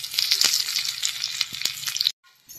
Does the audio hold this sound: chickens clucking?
no